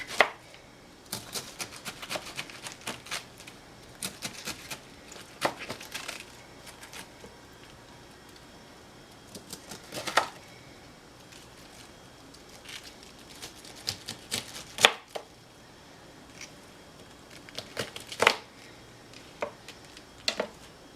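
A knife chopping cabbage on a cutting board in a kitchen, with sharp, irregular clicks and taps in quick bursts and short pauses, close and clear, with no talking.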